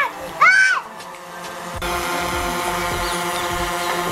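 A DJI Phantom 4 drone in flight gives a steady, close rotor buzz and whine that fills the scene after a brief voice and a burst of handling noise at the start.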